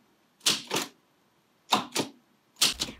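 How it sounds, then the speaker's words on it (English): Someone types on a manual typewriter, striking keys in three separate pairs of crisp, close clacks with short silences between them. "To type, simply press down on the keys"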